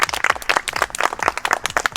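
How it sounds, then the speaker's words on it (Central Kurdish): Several people clap together for Reben, a child in the village of Kani Panka, making a steady, close burst of applause that runs for the full two seconds with no talk over it. "یەک چەپڵە بۆ ڕێبەن"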